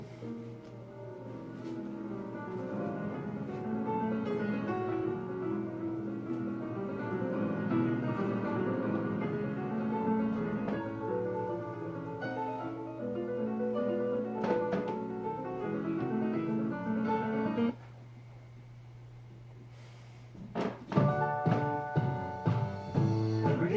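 Solo piano plays a flowing passage with rich chords and melodic runs, then pauses briefly before a few bright, separate notes ring out.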